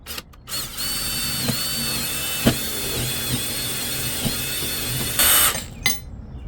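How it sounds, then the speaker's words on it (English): A power drill whines steadily at high speed, boring through a wooden 2x board in a 12-foot jon boat, with a few knocks and a brief pitch surge before stopping. "I'm just going to drill through the 2x here"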